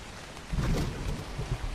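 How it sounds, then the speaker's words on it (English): Rain falling in a video game, a dense steady patter with a brief louder swell, no voices. "Yeah, the rain does sound really good."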